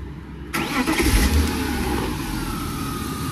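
A BMW E36 M3 engine cranks and catches about half a second in, then settles into a steady, loud idle with a low rumble that continues to the end.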